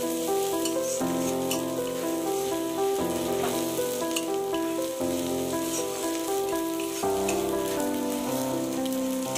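Spice masala with chilli powder sautéing in a pan for a fish dish: a steady, even sizzle running continuously beneath prominent background music, with no speech.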